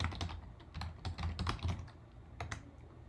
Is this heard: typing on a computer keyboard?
yes